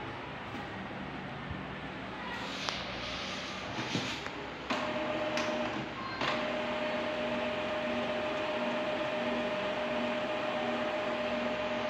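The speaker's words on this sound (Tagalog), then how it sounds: "naririnig mo yan dito. Nagsasound yan yung printer." A printer running a power cleaning cycle whirs and hums steadily, with a few clicks and mechanical clunks early on before settling into a constant drone.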